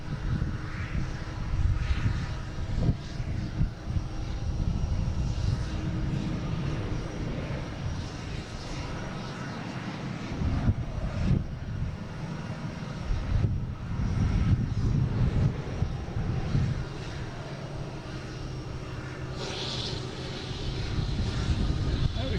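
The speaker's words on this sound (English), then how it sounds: "I have Alaskan Airlines coming in" An Alaska Airlines jet in from Seattle landing at Boston Logan, a continuous rumbling engine roar that swells and eases over the stretch, with a voice talking over it at times.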